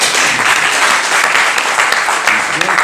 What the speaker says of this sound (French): je vous demande à la salle de l'applaudir